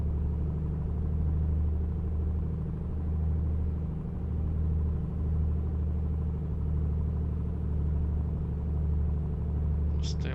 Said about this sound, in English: See how the engine will do at run-up.